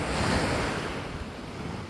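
Mediterranean waves roll onto a Barcelona beach, a loud, close, broad wash of surf with wind buffeting the microphone and no voices.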